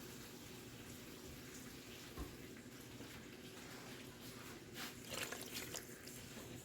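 Water poured into a bowl to rinse it out while slow-cooker beef stroganoff is made, a steady running splash with a louder burst near the end and no talking.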